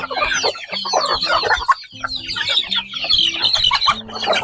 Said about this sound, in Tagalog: Yung ginya natin dito na dalawa, malaki na mga kaprobinsya